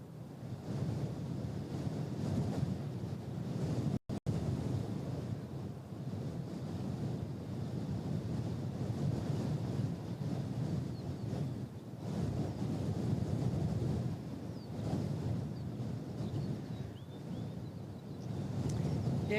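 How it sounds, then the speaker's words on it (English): Strong, steady wind roars across the microphone at Christchurch Airport, a dense, rushing buffet that lasts the whole stretch. It stays loud with small swells and one brief dropout, and no voices are heard. "Welcome to a very windy Christchurch Airport."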